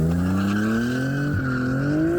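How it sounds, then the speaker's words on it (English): A 1994 Nissan 300ZX twin turbo's engine hums close by in a clear, steady tone that climbs gradually, dips briefly, then rises again. "We got the 94 300ZX twin turbo."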